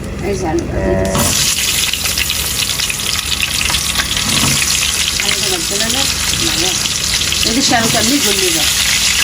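Chicken sizzles loudly and steadily in a hot pan while being stirred, a constant crackling hiss with occasional scraping, as people talk over it.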